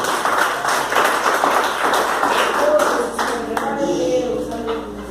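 A church congregation applauding in a worship service, steady dense clapping that fills the space at a fairly loud level, with a voice speaking over it near the end.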